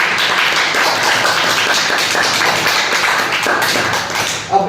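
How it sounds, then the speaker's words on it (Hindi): Loud, steady applause from a spoken English class audience fills the room, a dense wash of many hands clapping at once that continues for several seconds before tapering at the end. "एक बार जोरदार तालियां हो जाए"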